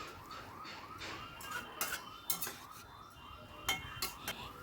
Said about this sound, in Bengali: আবারও সব কিছু ভালো করে মিশিয়ে নিচ্ছি।